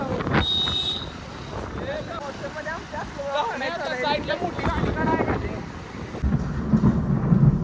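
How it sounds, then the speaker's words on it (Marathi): People talk over a background of thunder, and a deep rolling rumble swells louder near the end. "नुसत्या विजांचा आवाज ऐका"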